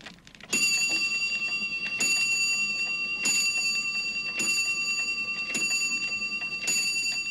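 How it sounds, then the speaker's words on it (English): A shop doorbell chimes with a bright metallic ping, struck five times at a steady, slightly uneven rhythm, each ring lingering and overlapping the next, close and clear without any talking. "ping went the shop's doorbell"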